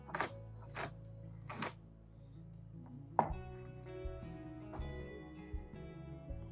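Broccoli and potatoes being chopped: a few sharp knife strikes against a board early on, then a heavier chop followed by quieter, scattered taps, faint and close with no voices.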